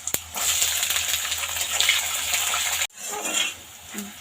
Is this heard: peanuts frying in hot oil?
yes